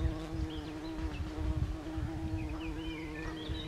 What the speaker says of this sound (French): regardez un peu, ça bourdonne de partout.